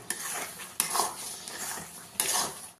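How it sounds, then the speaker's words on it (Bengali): A spoon scraping and clinking against a pan while mango chutney is stirred with spice paste and pepper, several sharp knocks among softer scraping strokes, close and fairly quiet. "দিয়ে আমি একটু ভালো করে নাড়িয়ে নেব"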